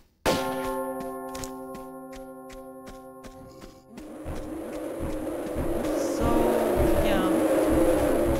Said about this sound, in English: I have no idea what that bell opened.